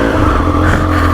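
A Triumph Street Triple R motorcycle engine idles before a short ride, a steady loud close rumble with no speech.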